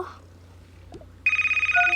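A phone ringtone from the Toca World video game starts abruptly after a quiet moment, a steady pulsing electronic ring that repeats quickly and sounds loud and close, with no talk over it.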